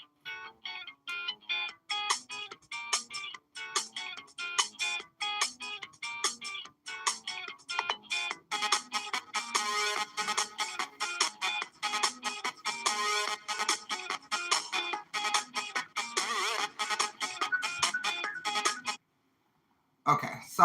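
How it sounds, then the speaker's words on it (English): A mobile phone ringtone plays loudly in a steady repeating electronic pattern for nearly twenty seconds, then cuts off briefly before sounding again. "My phone was ringing."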